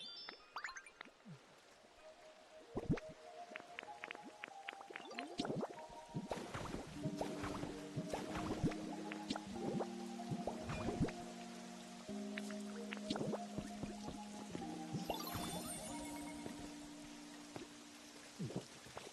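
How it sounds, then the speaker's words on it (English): Rain falls in the Pokemon Pokopia video game, a scattered patter of drops and drips heard under soft melodic game music notes. "can you please make it rain?"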